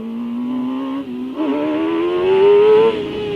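A small motorcycle engine revs steadily and close by, its pitch dipping briefly before climbing in a smooth, strong rise and then easing off, with no voices.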